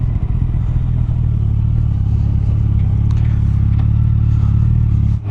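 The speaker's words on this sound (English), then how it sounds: "Get a little burble there when you do a little engine braking." A motorcycle exhaust burbles at a low, steady rumble under engine braking, with a close and loud irregular throb and faint clatter, and no pops.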